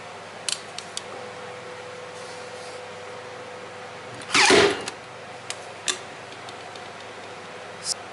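A Bosch Tacker stapler drives a staple into paper with one sharp, loud click midway, while a few faint ticks and handling taps sit around it against a quiet background.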